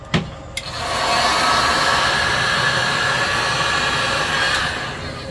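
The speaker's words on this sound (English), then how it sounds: "So let me heat gun this up." A heat gun runs on a sailboat's lithium battery system, a steady loud whooshing roar of hot air that starts after a couple of brief clicks and holds without a break.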